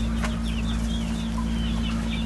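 Backyard chickens clucking over a constant low mechanical hum, several short scattered clucks and calls, close and moderately loud, no talking.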